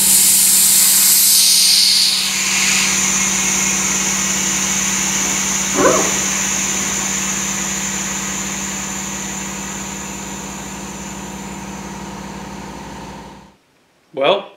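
A Vevor air jack lifting a vehicle gives off a steady mechanical hum with a broad hiss. A brief burst at the start and a short thump near the middle sound over the drone, which cuts off abruptly near the end with a final click.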